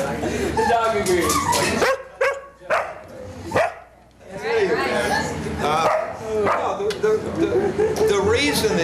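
A dog barks and yips repeatedly in a run of short sharp calls, mixed with whimpers and other voices close by, ending in more insistent barking.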